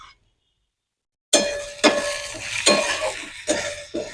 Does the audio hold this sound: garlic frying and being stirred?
yes